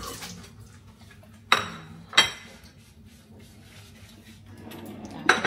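Dishes being washed in a hotel room, with two sharp clinks of crockery or cutlery a moment apart, a third clatter near the end, and a low steady hum underneath.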